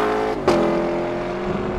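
A 2021 Lexus LC500's V8 engine holds a steady, loud drone and then gives a single sharp crack on the upshift before the tone settles lower.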